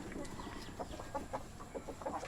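Rhode Island Red hens on a heritage chicken farm cluck in a run of short, rhythmic calls, close and moderately loud over a steady background hum.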